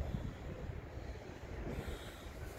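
Steady seaside wind buffets the microphone with continuous low rumble after a storm has eased, loud and constant with no speech over it.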